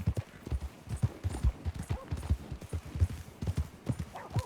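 A horse's hooves clip-clop in Red Dead Redemption 2 in a steady walking rhythm, clear and fairly close, with faint background sound and no talking.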